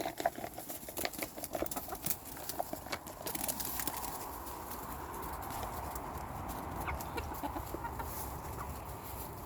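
Backyard hens clucking and pecking over treats, a busy mix of close murmuring clucks and scratchy patter that settles into a steady, softer background texture.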